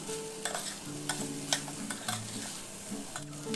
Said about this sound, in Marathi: हे सर्व चांगलं मीडियम गॅस फ्लेमवर परतून घेऊया।